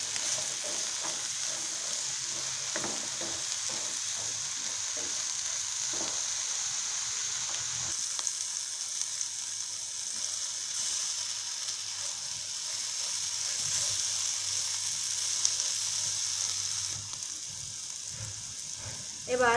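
Brinjal frying in a pan with salt and turmeric, a steady close sizzle with intermittent scraping stirs throughout, no voices.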